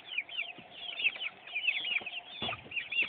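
Chickens and small chicks in an enclosure fill the air with constant high cheeping and scattered clucks, with the steady chorus near and busy throughout.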